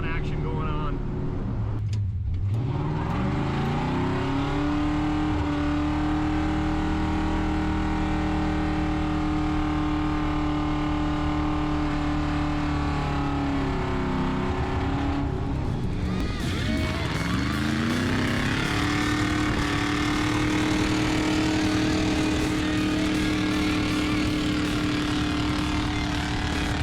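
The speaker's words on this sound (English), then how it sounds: "A little bit of belt squeal going on there, but there's a whole lot more tire squealing action going on." A 1974 Chevrolet C10 race engine revs hard and holds high, loud and continuous with rising and falling pitch sweeps, tire squeal and belt squeal mixed in, and a voice talks over it.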